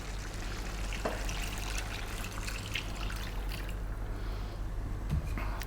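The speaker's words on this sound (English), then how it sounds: "we're going to add the water that we boiled the meat in, because that's got loads of lovely flavour in it" Water saved from boiling beef is poured into a pot of beef and potato stew, giving a steady, even trickling wash that runs unbroken for several seconds at moderate level with no talking.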